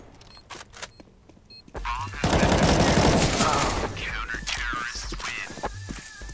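Gunfire in the video game CS:GO: a few sharp shots, then a long rapid burst of automatic fire spraying for several seconds, loud and close, with game effects and a voice talking over it.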